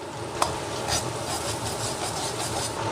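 Sichuan doubanjiang stir-fried with ginger, scallion and garlic in hot oil, a steady close sizzle with spatula scraping through it and a sharp clack near the start.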